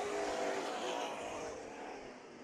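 Dirt track race cars at Bakersfield Speedway roar together in a steady, loud, dense engine drone that fades slightly over its short length, with no talk.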